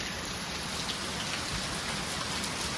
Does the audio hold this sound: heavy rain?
yes